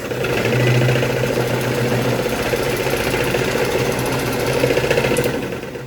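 A Moulinex mixer runs steadily while kneading dough, its motor and gears giving a close, loud, continuous mechanical whir with a slight rhythmic chatter throughout.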